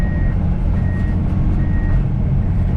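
A skid steer backs up on a residential yard job site, its reversing alarm beeping in a steady repeating pattern over a loud, close diesel engine rumble, with no talking.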